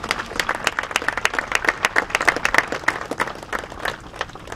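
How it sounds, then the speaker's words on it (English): A crowd claps at the rededication ceremony for the Edward S. Ned O'Brien Ice Rink. Many hands give distinct, rapid, fairly close claps in an uneven rhythm that swells in the middle and eases off toward the end. "Let's give a big round of applause."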